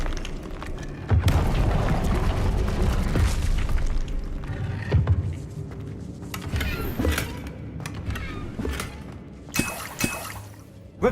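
An Incendio fire spell cast in Hogwarts Legacy: a loud whooshing, rumbling burst of flame with crackling bangs and shattering hits that continues as a busy, churning roar across the whole stretch.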